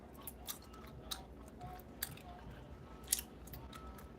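Close, quiet chewing of Hubba Bubba bubble gum, with soft wet squishes and a few sharper clicks and smacks spaced irregularly over a low background.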